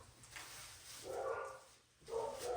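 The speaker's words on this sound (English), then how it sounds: "You hear my dogs." Dogs bark outdoors at a camp cooking setup, a few short muffled bursts at moderate distance over faint background hiss.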